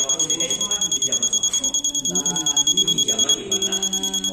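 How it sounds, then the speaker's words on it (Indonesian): A buzzer on an ultrasonic microcontroller aid for the visually impaired sounds in rapid repeated pulses, a steady high-pitched beeping under people talking. "bila ultrasonik berjarak 50 cm maka buzzer akan berbunyi"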